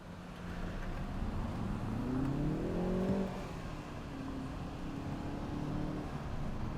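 A BMW 330i and an Audi A5 pull away from a standstill in a side-by-side drag race, heard as a steady, fairly distant engine drone with a rising rev sweep midway, then a sustained hum.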